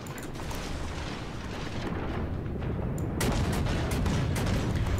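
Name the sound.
St. Louis cruiser guns firing, World of Warships video game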